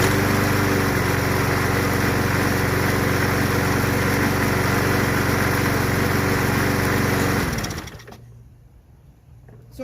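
An MTD Yard Machine 21-inch lawn mower with a 6.75 Briggs & Stratton 190cc engine runs loud and close with a steady droning roar, then cuts out and winds down near the end, leaving quiet.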